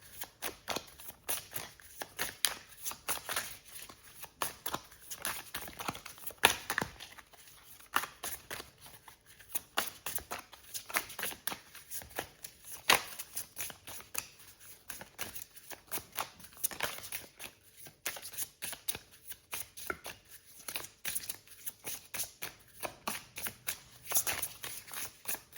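Tarot and oracle cards are shuffled by hand at a reading, a long run of rapid papery riffles and flutters in uneven bursts, close and continuous, with no talking.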